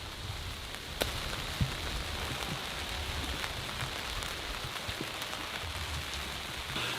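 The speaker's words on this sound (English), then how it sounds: "it's starting to rain" Steady rain patters on a surface outdoors on raw land in Alaska, a continuous hiss with a few louder drops standing out.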